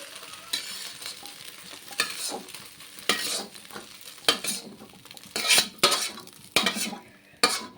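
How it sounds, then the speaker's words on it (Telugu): Vegetables stir-fried in a pan for egg noodles give a steady close sizzle broken by repeated spatula scrapes and clinks against the metal, a rhythmic series of stirring strokes over several seconds, with no voices. "ఇట్లా వెజ్ని మంచిగా వేయించేసుకోవాలి"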